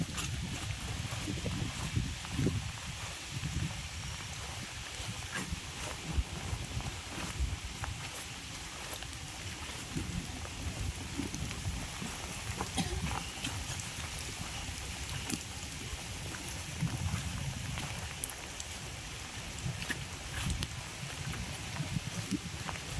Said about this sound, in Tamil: மழை வேறு செம மழைங்க இருக்குங்க